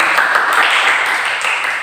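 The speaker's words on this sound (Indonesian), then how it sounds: "Silakan tepuk tangan untuk ini" Classroom applause for a correct answer, a short burst of steady, dense clapping from a group of students that fills the whole moment and stays even from start to finish.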